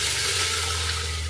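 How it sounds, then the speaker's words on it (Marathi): Water pouring into a handi of fried cumin for jeera rice, a steady rushing, gurgling pour sounding close and continuous for the whole brief moment. "आता आपण याच्यात घालून घेणार आहे पाणी"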